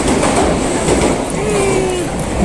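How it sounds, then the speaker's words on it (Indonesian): A Shinkansen bullet train in Japan heard from close by: a loud, steady rushing rumble with a faint wheel squeal partway through. "kita sekarang mau naik Shinkansen, itu keretanya."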